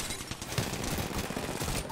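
Rapid bursts of gunfire in the battle-royale shooter Apex Legends, fired at the character Octane, crackle as a dense, fairly quiet volley throughout, with no talking.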